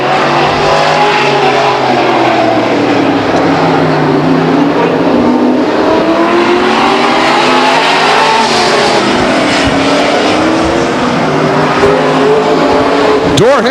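Grand American Modified race cars run wheel to wheel at Stockton 99 Speedway, engines loud and close, their pitch rising and falling through the corners, while a commentator talks over the racing.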